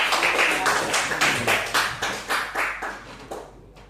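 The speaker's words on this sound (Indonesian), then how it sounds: "Kasih apresiasi dulu ya tepuk tangannya." A classroom group claps in appreciation, a burst of rhythmic, fairly close hand claps that thins out and fades toward the end, with no talk over it.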